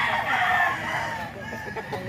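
A rooster gives a loud, close crow in a Filipino gamefowl yard, the drawn-out call fading into softer clucks against a low background rumble.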